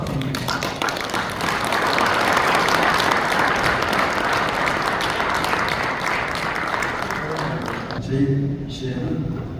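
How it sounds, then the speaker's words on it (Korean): Loud, continuous audience applause as a guest pastor comes on stage at a church men's association gathering, holding steady for several seconds before thinning out at the end. "나오실 때 큰 박수 부탁드립니다."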